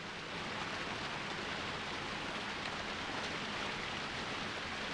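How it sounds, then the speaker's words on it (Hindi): A waterfall that runs round the clock behind a yoga teacher in Haridwar gives a steady, dense rushing hiss, constant and unbroken, with no one speaking over it. "आपके पीछे झरना जो है वो 24 घंटे चलता है।"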